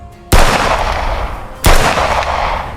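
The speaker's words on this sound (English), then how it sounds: "your shooting skills are always perfect, Yin." Two loud, sharp gunshots about a second and a half apart, each followed by a lingering echoing tail.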